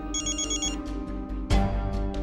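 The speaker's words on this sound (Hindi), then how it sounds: "इसका फिर से फोन आ रहा है, क्या करूं मैं?" A mobile phone rings with a repeating electronic melody, fairly close and clear, and a sudden louder shift partway through as the tone continues, with no one talking.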